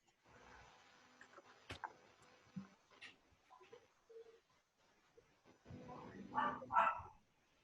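A small dog barks and yips indoors, a few faint, short barks scattered across the recording and a louder burst near the end, with quiet background room noise.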